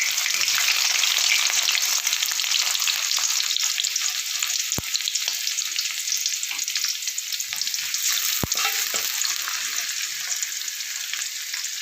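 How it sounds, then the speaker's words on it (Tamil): Finely chopped large onions sautéing in hot oil with fennel seeds, cinnamon and bay leaf for a country chicken masala gravy, a steady close sizzle with occasional stirring clinks of a spoon against the pan, no talking. "இது நல்லா வதக்குங்க எண்ணெயிலேயே நல்லா வதக்குங்க"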